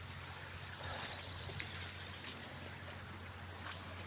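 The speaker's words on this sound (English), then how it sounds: "There's water running through it right now." Floodwater from a raging river seeps and trickles through a cinder block wall that it has pushed outward, a steady close wash of running water with faint drips, no voices.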